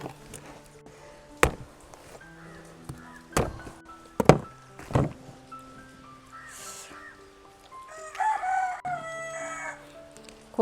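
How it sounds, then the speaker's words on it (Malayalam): Hens cluck and a rooster crows partway through, mixed with a few sharp knocks and thuds nearby in an otherwise quiet yard. "കോഴികളൊക്കെ എന്താ അവർക്ക് ഫുഡ് കൊടുക്കാൻ വന്നിക്കാന്ന് വിചാരിച്ചിട്ടേ ചുറ്റു വന്ന് നിൽക്കുന്നുണ്ട്"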